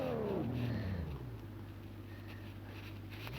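A car engine in a driving video game on a tablet, a revving whine that drops to a steady mid-pitched drone, fairly quiet and alone.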